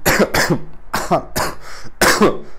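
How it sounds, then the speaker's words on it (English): A sick man coughs five times in quick succession, harsh and close, with short gaps between the bursts and some throat clearing, alone with no talk. "I'm going to cough, maybe, perhaps, and sniffle a little bit throughout this video"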